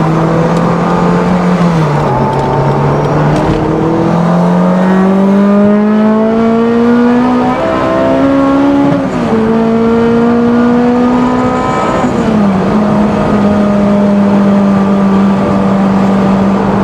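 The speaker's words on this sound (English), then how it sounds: "You've probably heard that big bang, which I think I'm probably just touching the rev limiter" Honda S2000 engine pulling hard and revving through gear changes on a drive, a loud, continuous engine tone that climbs, dips and climbs again, with a sharp bang near the rev limiter.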